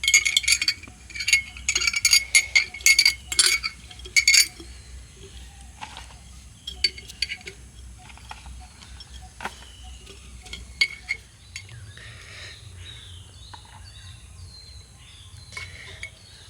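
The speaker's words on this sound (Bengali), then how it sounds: "এই বয়ামের মধ্যে আমি এই কেটে রাখা আমগুলোকে ভালো করে গুছিয়ে ভরে নেব" Cut raw mango pieces packed into a glass jar for pickling, producing a run of close clinks and knocks of fruit against glass that thin out into sparse, quieter taps and shuffles.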